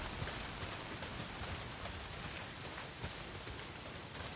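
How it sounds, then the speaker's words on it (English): Heavy rain pours down steadily in Days Gone, a dense, even hiss of drops with no break, fairly faint and without speech. "Well, not if it's pissing down rain"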